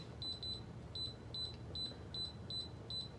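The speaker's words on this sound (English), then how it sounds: "I'm going to set the timer to the same thing as I did the potatoes." Electronic beeps from a pressure cooker timer being set, a steady run of short, evenly spaced high chirps repeating about twice a second, fairly quiet over a low background rumble.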